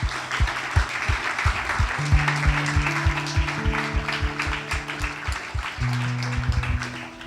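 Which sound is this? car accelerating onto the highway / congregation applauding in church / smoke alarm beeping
congregation applauding in church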